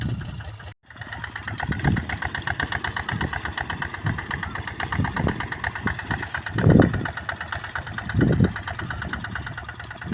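A Ryuka RT155 motorcycle engine idles steadily with a throaty exhaust rumble, a brief dropout near the start and a couple of small revs, no talking.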